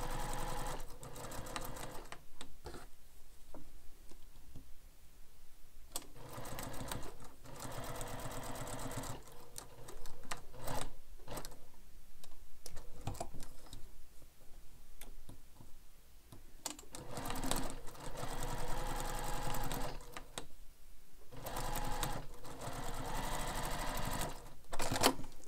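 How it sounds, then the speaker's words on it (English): Sewing machine top stitching fabric connectors down each long edge of a carryall bag, running in close, steady bursts with short pauses between runs and no talking. "Now we're going to top stitch the connectors down each long edge."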